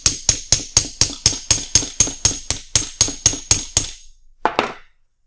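A grommet is hammered on an anvil: about fifteen sharp, ringing metallic strikes in a fast steady rhythm, close and loud, then a pause and a couple of final taps.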